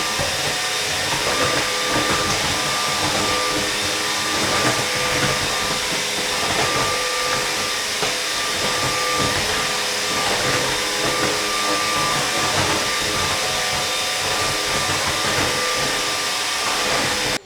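A LEVOIT cordless vacuum cleaner runs on bathroom tile with a loud, continuous high-pitched whine and hiss, up close and unbroken throughout.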